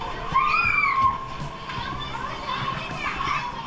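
Excited screaming and shouting from a crowd of zoo visitors, children among them, surging toward a tiger enclosure; loud, shrill overlapping voices with a sharper burst early on, then a steady chorus.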